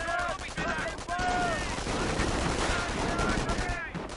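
Sniper and machine-gun fire rattle through a tournament video game match in quick, dense bursts, with a voice talking over the shooting.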